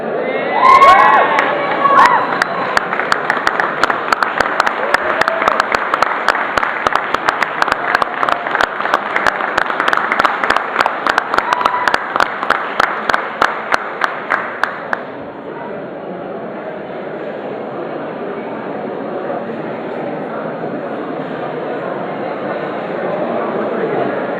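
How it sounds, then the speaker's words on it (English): A large crowd at a cosplay contest applauds and cheers loudly for the contestants, with rhythmic clapping and shouting that continues steadily, then settles into softer crowd noise. "can I have one last round of applause for our contestants, Head Teacher and Nicola"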